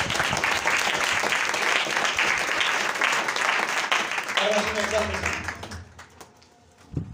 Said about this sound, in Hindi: भाई, ये मुंह वास्ते तालियां बजाओ यार।